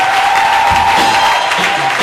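A church congregation claps loudly in a dense, continuous wave of applause during a worship service, filling the room evenly for a brief stretch.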